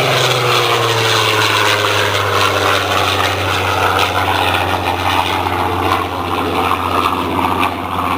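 A Supermarine Spitfire Mk18 piloted by Jim Beasley roars past as a loud, continuous propeller-engine drone. The growl is close and powerful and stays strong for the whole pass.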